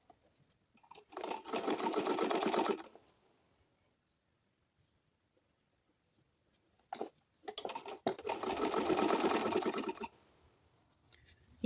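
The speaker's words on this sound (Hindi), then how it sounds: "इस तरह से फ़ोल्ड करके इस पे एक सिलाई लगा देंगे नीचे की तरफ से एक साइड से।" A sewing machine stitches fabric for a small doll dress in two steady bursts of fast, whirring needle chatter, a few seconds each, separated by near silence and a few soft clicks of handling.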